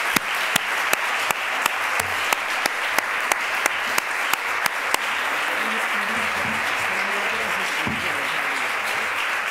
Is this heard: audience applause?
yes